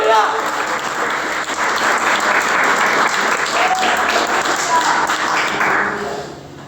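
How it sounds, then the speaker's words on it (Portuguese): A church congregation at an Easter resurrection service claps together in a loud, sustained, dense round of applause that tapers off at the end. "Aplauda o Senhor, aleluia!"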